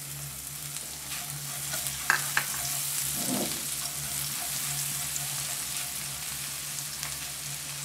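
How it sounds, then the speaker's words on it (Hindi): Crushed garlic sizzles in oil in a wok, giving a steady, fairly faint frying hiss. A couple of light scrapes or stirs come near the start. "अब इसमें हम ये लहसुन डालेंगे कुटा हुआ"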